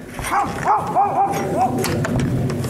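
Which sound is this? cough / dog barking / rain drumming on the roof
dog barking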